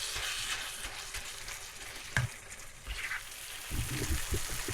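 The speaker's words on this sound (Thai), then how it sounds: "เดี๋ยวผัดไปเรื่อยๆนะคะจนหมูเขาสุกดีนะคะ" Minced pork stir-frying in a pan for Thai coconut milk rice noodles, a steady close sizzle with occasional scraping strokes of a spatula and a brief louder clatter partway through, no talking.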